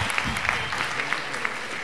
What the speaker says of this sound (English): Shall we give them another hand of applause?